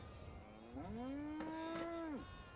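A cow at a player's camp in the video game Fallout 76 gives one long, clear moo that rises and then holds steady before dropping off at the end, heard alone over faint background hiss.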